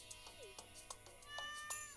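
A cat in the farming game Stardew Valley gives a short, faint meow over soft, chiming game music tones.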